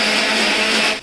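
A mixer grinder grinds a paste of ginger, garlic and kasuri methi, its loud, steady motor whine running alone and unbroken before cutting off abruptly at the end.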